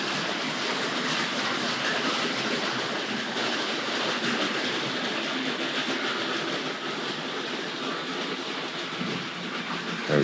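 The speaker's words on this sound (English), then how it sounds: "let's see if we can get Britannia to a gentle stop again near these Pullmans" A Tri-ang model train, the Britannia locomotive, runs along the track with a steady, continuous rolling rattle and faint rhythmic clicking at moderate distance, no voices.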